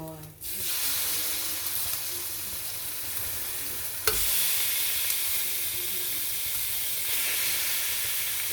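Ground meat for sisig sizzles steadily in oil in a hot pan, a loud continuous hiss with occasional scraping and stirring, close up and without speech.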